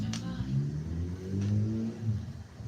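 A loud motorbike passing by outside, as a rising and falling rumble of engine roar that swells through the middle and fades.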